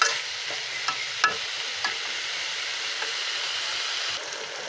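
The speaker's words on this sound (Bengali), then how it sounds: "মাছের তরকারির মশলাটা কষানো হয়ে যাচ্ছে, এখন তরকারিটা দিয়ে দিলাম। এখন ভালো করে কষানো হবে।" Fish curry spice paste sautéed in a pan, then the curry added and stirred: a soft, continuous sizzle with several light scrapes and taps of a spoon against the pan, fairly quiet and close.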